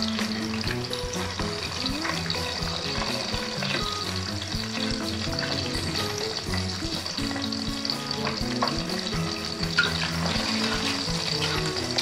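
An egg fries in oil in a pan, giving a loud, steady sizzle and crackle throughout, with small pops and scraping stirs now and then.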